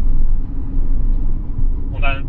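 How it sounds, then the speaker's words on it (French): A Porsche 911 GTS with a sequential paddle-shift gearbox sets off on a road drive, giving a steady, low exhaust rumble that holds loud and close throughout, with a brief higher chirp near the end. "On a un très joli retour aux échappements."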